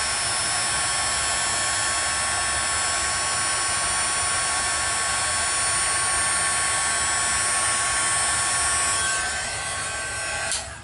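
An embossing heat tool warms a card, giving a steady, close blowing hum with a faint high whine that runs throughout and drops away at the end.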